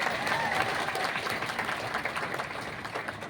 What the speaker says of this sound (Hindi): कुछ सम्मान करेंगे ताली बजा के।